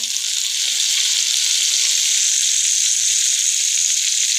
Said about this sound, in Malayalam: നമുക്ക് കുറച്ച് വേപ്പിലയും കൂടി തൂവി കൊടുക്കുക.